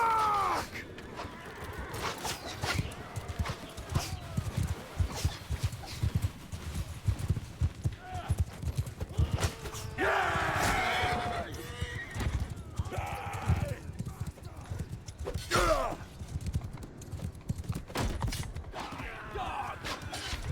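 Horses galloping and neighing in the battle game Mount & Blade II: Bannerlord, with a rapid clattering of many hooves under a busy battle din, plus squeals and creaks and brief shouts rising above it.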